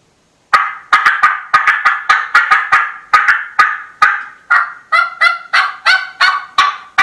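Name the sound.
turkey call imitating the cutting of an excited hen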